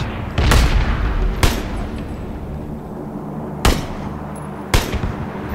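Loud gunshots in the PUBG battle royale game, four sharp cracks at irregular intervals with long gaps of quieter ambient noise between them and no talking.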